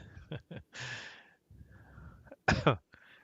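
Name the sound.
cough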